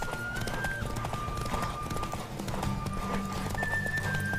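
Steady clip-clop of horse hooves at a quick galloping rhythm during a horse race in the video game The Witcher 3: Wild Hunt, with a faint tonal whistle above and some talk mixed in.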